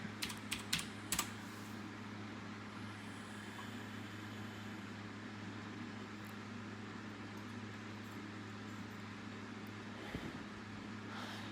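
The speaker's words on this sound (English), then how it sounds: "I tend to say what I'm typing." Quiet keystrokes on a computer keyboard during an online Yu-Gi-Oh card game, with a quick cluster of clicks at the start and a few sparse taps later over a low background hum.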